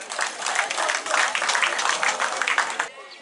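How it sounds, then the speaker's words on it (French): Audience clapping at a women's leader investiture ceremony in Diabouo, a dense, steady burst of many hands lasting about three seconds before cutting off abruptly into quiet room tone. "Vous l'applaudissez pour cela."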